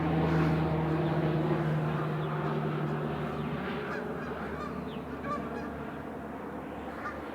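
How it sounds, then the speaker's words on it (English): Geese and goslings honk in a marsh, a dense, steady chorus of calls that fills the scene, with a low drone running underneath. "Oh, look at all the goslings."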